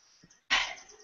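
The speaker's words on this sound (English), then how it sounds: "We're going to start by clearing my throat so I can talk." A single short throat clearing, close and abrupt, bursts out of near silence and fades within half a second.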